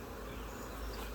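Honeybees buzzing around an open beehive at an apiary, a dense, steady drone of many insects close by, continuous and fairly loud with no speech.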